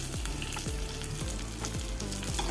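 Garlic and curry leaves fry in hot oil for a tempering poured over a ridge gourd olan. A dense, steady crackling sizzle fills the clip, with low thumping bursts recurring about every half second, and no voices.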